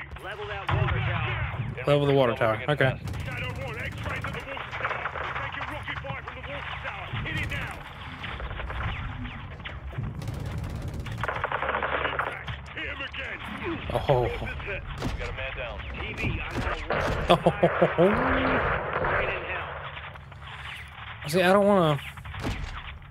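Firefight gunfire in Call of Duty: Modern Warfare II crackles in bursts and single shots at varying distances, often under radio chatter and spoken dialogue across a long stretch of combat.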